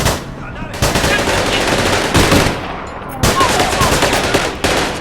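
Loud automatic gunfire from the video game APB Reloaded comes in long rapid bursts separated by brief gaps, close and dense throughout.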